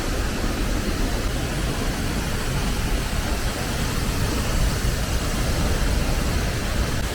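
A waterfall on a Palenque tour in Mexico, one with a path that lets visitors walk behind the falling water, gives off a steady, dense roar of rushing water, loud and unbroken throughout.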